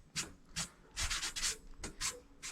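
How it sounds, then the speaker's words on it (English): Hand sanding with 120 grit sandpaper, about seven short rasping back-and-forth strokes with brief pauses between them, close and fairly crisp. "gonna try out this 120 grit"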